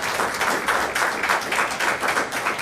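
An audience at an Iowa City event applauds for speakers and staff, dense, even clapping from a crowd that holds steady throughout.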